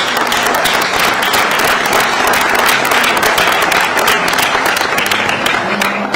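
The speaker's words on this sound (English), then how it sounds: "give everybody in this room a big round of applause" Press conference audience in a room breaks into loud, sustained applause after Senator Scott's remarks about the US military capture of Maduro. Dense clapping runs evenly for the full stretch without pause, and no voice speaks over it.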